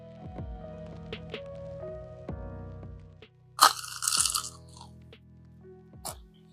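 Someone bites into crispy air fryer Korean fried chicken coated with potato starch, giving a few sharp close crunches against quiet background music.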